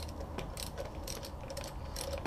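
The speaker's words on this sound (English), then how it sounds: "you can adjust it with a 14mm socket" A ratchet wrench with a 14mm socket tightens the drum brake adjuster on a 2014 60V Black Edition Ecomopeds electric bicycle, giving a steady run of quick, close metallic clicks in short bursts.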